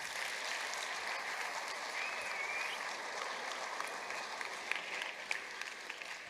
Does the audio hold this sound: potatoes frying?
no